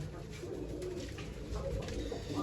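Pigeons coo in a loft where the birds are being fed grain, a steady layered murmur of low, throaty calls close by with a continuous rustling bed and no voices.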